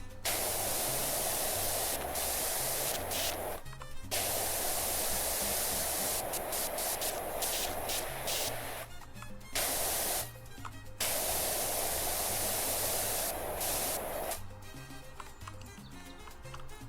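Hissing spray from a pressure washer nozzle in the video game PowerWash Simulator 2, a loud steady rush of water cutting out several times in short bursts, with light game music underneath.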